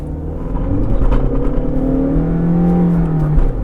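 A modified car engine fitted with a BMC air filter revs up, its intake roaring loud and close with rising, sweeping pitch and a steady rumble underneath.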